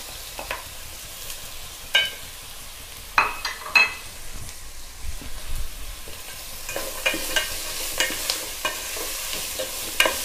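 Carrot and potato are stirred into paruppu sambar in a pan, with a soft steady sizzle under scraping spoon strokes and occasional light clinks of utensil against the pan.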